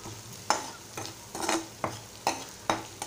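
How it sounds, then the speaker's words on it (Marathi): A spoon stirs an onion and green chili mixture with salt and turmeric in a hot pan, five or six distinct scraping strokes at a steady rhythm over a soft sizzle, close and fairly quiet. "आता हे मिश्रण एकजीव करून घेऊया"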